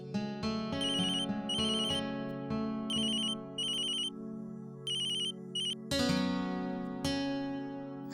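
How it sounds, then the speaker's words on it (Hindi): A telephone ringtone plays a bright, repeating electronic melody in short phrases, loud and steady with no voices over it, in a domestic scene from a Hindi television drama. "निखिल जी का फोन है"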